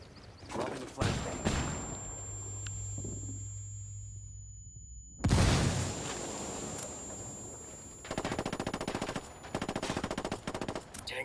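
A frag grenade goes off in Ghost Recon Wildlands as one loud, sharp blast midway through, with earlier scattered shots and a stretch of rapid automatic gunfire afterward.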